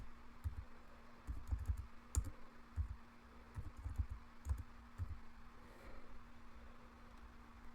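Quiet computer keyboard typing while entering numbers into a Google Sheets budget, soft irregular key clicks in short bursts with a steady low hum underneath and no talk.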